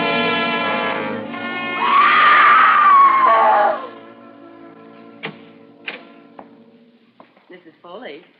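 A woman lets out a loud, sustained scream lasting about two seconds in a radio drama about two sisters. Quieter ticking and knocking sounds follow, along with some voices.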